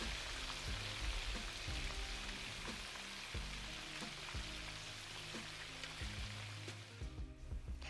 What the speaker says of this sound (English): So while the first batch of fish is frying till crispy